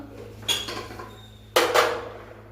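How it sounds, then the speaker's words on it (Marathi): A metal lid set on a steaming pot of patolya gives two clanks: a lighter clink first, then a louder rattling clatter that rings briefly as it settles. "याच्यावर मी झाकण ठेवते"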